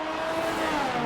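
An F1 race car in the video game F1 2019 on a flying lap in Belgium, its engine droning loud and steady with a high rising whine.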